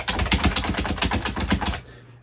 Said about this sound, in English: Silent typing keyboard,